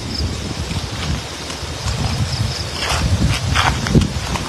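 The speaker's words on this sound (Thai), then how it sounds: "วันนี้ลมค่อนข้างจะแรงครับ" Strong wind buffets the microphone outdoors at a rural elephant keeping site in southern Thailand, a rough steady rush with gusts and some rustling, no voices over it.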